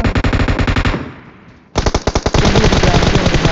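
Rapid bursts of video game machine-gun fire, loud and close, with a brief lull of fading echo before a second sustained volley rattles on without pause.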